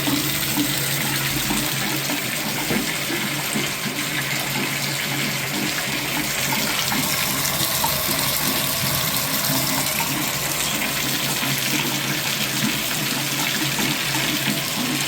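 Water runs steadily from a shower valve, with a water heater also involved: a continuous loud rushing spray that stays even and close for the whole stretch, with no voices over it.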